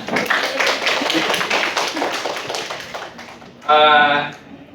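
Brief burst of classroom applause, a short dense patter of clapping that starts abruptly after talking and fades within about a second.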